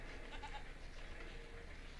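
Sheep bleat at a sheep farm in the train-building strategy game Railroad Tycoon II, a soft, faint bleating over a steady game background hum with no talk.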